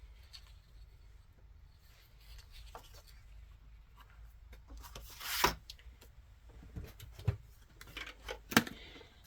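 A paper trimmer slices through card stock for a homemade greeting card, giving a faint rubbing, scraping pass followed by a few sharp clicks, with a quiet room around it.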